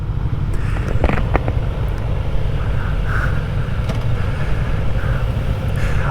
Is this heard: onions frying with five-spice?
no